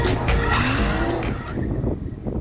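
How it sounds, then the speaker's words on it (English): Rear-wheel-drive Mercedes SLR McLaren and Aston Martin DBS skidding to warm their tyres, loud close tyre squeal layered over revving engines, fading slightly toward the end. "as this Mercedes McLaren and the DBS are both rear wheel drive, we do need to warm up the tyres, which means skids!"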